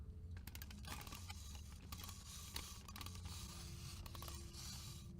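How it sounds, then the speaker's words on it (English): Wind-up whirring and creaking from the Lefty animatronic in a Five Nights at Freddy's game, a continuous mechanical clicking and grinding texture with scattered ticks over a low drone. "And Lefty has some wind-up whirring."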